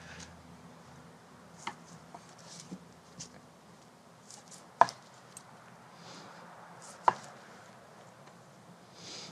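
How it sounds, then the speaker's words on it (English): A knife slices through herbed tuna wrapped in plastic, with faint scattered taps and two sharper cuts against a board over a quiet, close background, with no voices. "So I'm literally going to slice right through the plastic wrap."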